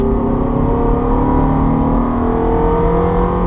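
Ferrari F430 engine pulling hard in fourth gear up a hill at Eastern Creek raceway, a loud, steady, close-up drone with strong harmonic tones that stays full throughout without a gear change.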